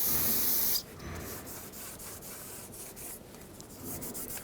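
Rag and brake parts cleaner wiping down the gasket surface of a 2009-2011 Ford F-150 rear differential cover, a short spray burst first, then steady close rubbing and scrubbing strokes.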